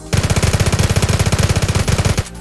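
Rapid automatic fire from an MP9 submachine gun in a video game: a steady stream of about forty sharp, evenly spaced shots over two seconds, loud and close, ending abruptly.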